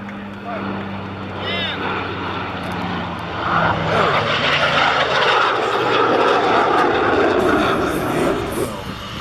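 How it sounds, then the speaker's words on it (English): Propeller aircraft flying a super slow aileron roll at the SUN 'n FUN 2018 airshow, a broad steady engine drone that swells slightly midway, heard from a distance alongside crowd and announcer noise. "Let's watch for aileron roll. And it's a super slow aileron roll."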